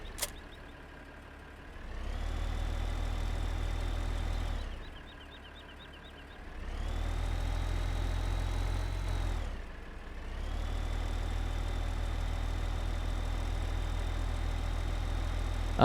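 An older-style John Deere tractor idles in Farming Simulator 15, a steady low engine drone that rises and falls in level several times, with a faint high whine above it and no talking.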